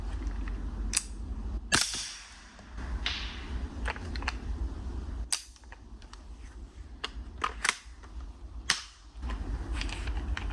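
A suppressed CAR-15 SD rifle fires a series of sharp, muffled cracks at irregular intervals over about ten seconds, close and fairly loud above a continuous outdoor background with no talking.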